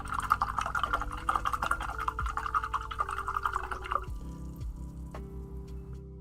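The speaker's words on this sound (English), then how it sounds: "Let's rinse this brush, and then we'll get a smaller brush." A paintbrush is swished and tapped in a small cup of water, producing a quick run of close, light sloshing and dripping sounds that then settle into quiet drips.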